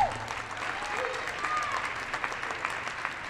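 Sustained applause from a crowd in a high school gymnasium honoring recognized students at a girls' basketball game, steady and dense with a faint voice over it.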